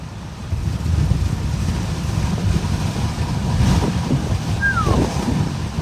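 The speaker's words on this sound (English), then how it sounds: "Just insane gusts we're getting." Strong wind from Hurricane Milton roars steadily with low, rumbling gusts buffeting the microphone, a brief creak or whistle cutting through near the end.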